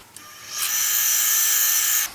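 A small sanding machine shapes a little stalk of African blackwood, its high whirring buzz rising abruptly, holding steady and loud for about a second and a half, then cutting off.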